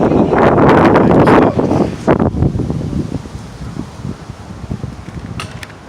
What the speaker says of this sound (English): The wind is crazy out here in Colorado.